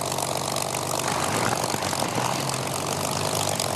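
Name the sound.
aircraft engine hot start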